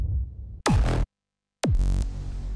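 Two distorted hardstyle kick drum samples auditioned in FL Studio, each a hard punchy hit with a heavily boosted, gritty body, loud, with a brief silence between them and no talking.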